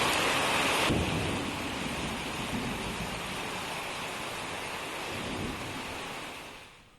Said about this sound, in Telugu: పలు ప్రాంతాల్లో ఉరుములు మెరుపులతో కూడిన వర్షం దంచికొట్టింది.